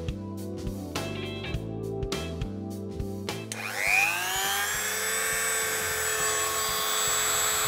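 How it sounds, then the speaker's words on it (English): A few light taps and knocks come first, then a small motorised wire wheel spins up with a rising whine and keeps running steadily, close by, while cleaning the wheels of a damaged Hornby model tank engine. "it is a good idea to use the wire wheel to clean the wheels"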